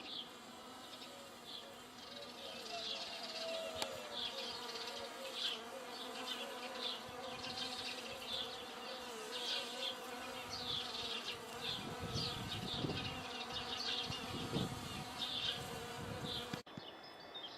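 Bees buzz continuously around flowering plants in a garden in Cyprus in May, several insects droning close and then farther off, with faint rustling and a brief low rumble partway through.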